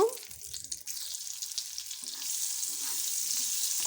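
Onion pieces dropped into hot oil for an egg curry, opening with a clatter and stirring before settling into a steady, moderate sizzle that grows slightly denser, no voices.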